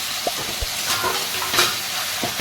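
Potatoes and cauliflower frying in a spiced pan for a cauliflower and rohu fish curry make a steady close sizzle, with a few sharp knocks of stirring and no voices.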